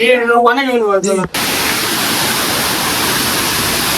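A voice speaks briefly, then a steady rushing roar of a small waterfall below a temple at Siddhagad takes over, close and constant.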